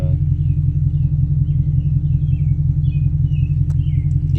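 A Ford Mustang GT V8 driving in wet, rainy conditions gives a steady, loud, deep engine rumble throughout, heard from inside the car, with faint splashing and road noise above it.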